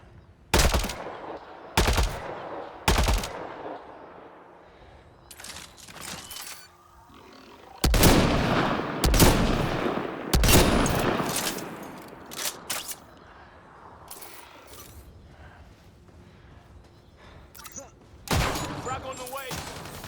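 Sharp bursts of automatic and single gunfire in a Mass Effect Andromeda firefight, loud cracks arriving in clusters with quieter stretches between, a few spaced volleys at the start and denser rattling later, with faint voices in the background.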